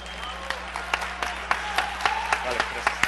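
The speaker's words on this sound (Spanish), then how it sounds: "Un aplauso para Ofray Luna" Scattered audience applause at a Campus Party conference closing session, a few individual claps standing out sharply over a thin, steady background and a low hum.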